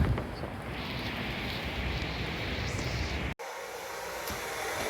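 A hair dryer pushed inside wet trainers gives a steady loud rushing blow in a hotel room, then cuts off abruptly, leaving a quieter background hiss.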